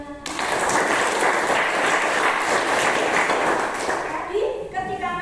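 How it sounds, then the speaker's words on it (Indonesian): Steady, dense applause from a group of participants at the end of a mindfulness session fills the clip, fading as the clapping stops near the end. "tepuk tangan untuk kita semua"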